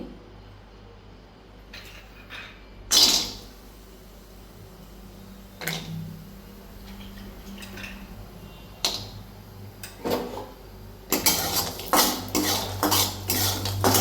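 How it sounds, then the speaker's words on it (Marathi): Dry fruits are roasted in ghee in a pan: spoon and metal clinks and scrapes arrive in irregular bursts, and a quick flurry of clattering strikes comes near the end over a faint low hum. "आपण झाला तूप जरा टाकून हे ड्रायफ्रूट भाजून घेऊया छानस भाजून घेऊ"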